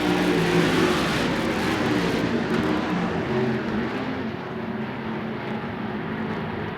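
USAC sprint cars race at Phoenix with a loud, continuous, dense engine roar from a pack of cars that eases slightly toward the end.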